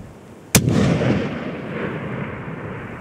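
A single sharp rifle shot cracks once, loud and close, then rolls away in a long fading echo across open mountain country during a tahr hunt at over 1,000 metres.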